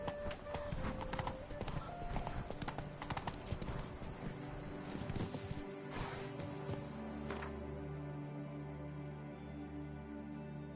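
Horse hooves clip-clop steadily in the Witcher 3: Blood and Wine video game, with neighing and a rider's voice calling out over the rhythmic footfalls.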